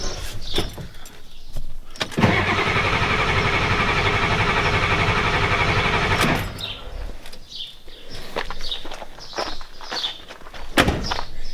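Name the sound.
starter cranking 1993 Ford F-250 7.3 IDI diesel engine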